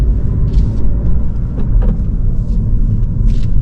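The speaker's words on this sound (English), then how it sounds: "make sure you know there's a car coming. I'm going to wait for that car." A car passing on a road, heard as a low, close rumbling engine and tyre noise from inside a vehicle, steady and fairly loud with no talking.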